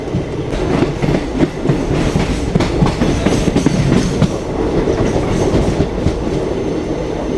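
The weekly Vasco-da-Gama to Tirupati express rolls along the rails, giving a loud, continuous rumble and rhythmic clatter of wheels heard from on board, with no voices.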